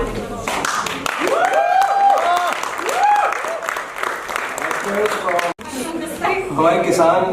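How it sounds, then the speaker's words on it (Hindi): Loud applause and clapping from a theatre festival audience during a Hindi play, honouring Neha ji, with crowd chatter and voices mixed in throughout; a brief break near the end before the clapping resumes. "नेहा जी के लिए जोरदार तालियां दें।"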